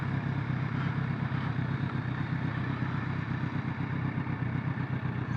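A Kawasaki ZRX1200R motorcycle engine braking, a steady close burbling drone with rapid rhythmic pulsing, unbroken throughout.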